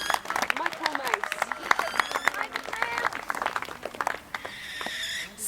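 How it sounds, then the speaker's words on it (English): Audience applause and clapping at a birds of prey show, a sustained burst of many hands from a nearby crowd lasting several seconds, with bird calls and chatter mixed in. "Can I have a round of applause from Michael Mouse?"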